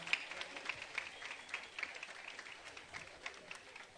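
Graduation ceremony audience applauding in a hall, a steady patter of many hands clapping at moderate distance for a few seconds, faint and unbroken, with no voices standing out.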